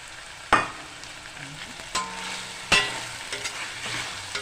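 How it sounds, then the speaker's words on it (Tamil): Green gram sautéing with salt in oil, a low steady sizzle broken by a few sharp clanks of a spoon against the pan and quieter stirring scrapes, close and without voices. "கொஞ்சம் உப்பு போட்டு ஒரு 2 நிமிஷம் எண்ணெயில் கொஞ்சம் வதக்கிடுங்க."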